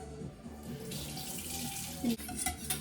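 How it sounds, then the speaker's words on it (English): Hands are washed under a running kitchen tap, with a steady, close rush of water and splashing throughout and a brief faint voice partway through. "Wash them with soap."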